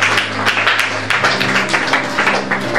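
A church congregation at a Bible teaching applauding and cheering for Jesus Christ, loud rhythmic clapping from many hands with some vocal shouts mixed in.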